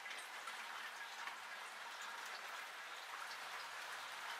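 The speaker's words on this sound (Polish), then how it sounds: "Sonisia się chowa w altance, bo zaczął duży deszcz padać." Heavy rain pours down steadily outdoors during a birthday gathering with a garden gazebo, forming a dense, even hiss with scattered drop patter throughout.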